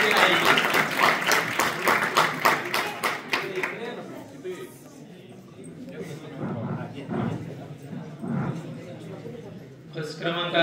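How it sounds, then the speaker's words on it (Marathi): A school audience at an award ceremony for a first-rank exam result bursts into loud, fast clapping for about three seconds, then fades to scattered claps and murmuring crowd noise, with a brief swell again at the end. "एकदा तो जोरदार टाळ्या झाला पाहिजे"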